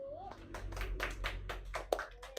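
A brief round of classroom clapping for the first student group at a primary school, a short scatter of hand claps fairly faint and close, mixed with light room noise.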